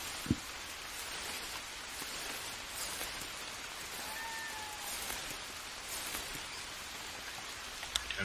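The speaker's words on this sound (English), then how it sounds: "It is still raining, so that will fill up quickly" Steady rain falls in the jungle survival game Green Hell, a dense, even patter on surfaces at moderate loudness, broken by a few faint sharp clicks.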